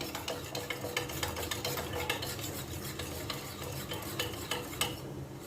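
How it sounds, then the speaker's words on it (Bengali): A spoon stirs flour and water in a bowl while ash gourd cooks nearby. Quick, steady scraping and tapping strokes sit over a soft hissing background, close and moderately loud. "একটি চামচের সাহায্যে ভালো করে মিশিয়ে নিব"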